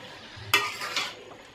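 Bottle gourd greens being stir-fried in a pan, a sudden loud sizzle and scrape as they are tossed, followed by a second stirring burst that fades into quiet frying.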